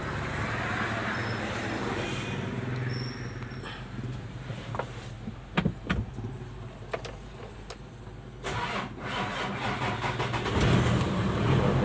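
A homemade dump truck with a 6016 engine cranks and fires up, clattering and ticking through a few uneven bursts before settling into a rough, louder running idle close by.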